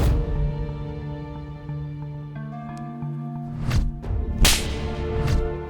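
A slap on the cheek lands in a Tamil courtroom film scene, a sharp whip-like crack standing out over a sustained musical score, followed by further swishing hits.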